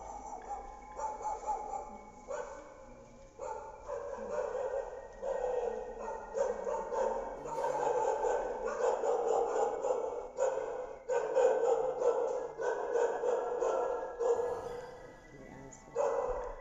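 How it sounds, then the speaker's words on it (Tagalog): A dog barks repeatedly at night near an abandoned morgue building in Clark, Pampanga, with sharp, fairly close barks coming in uneven bursts and some faint talk. "May aso."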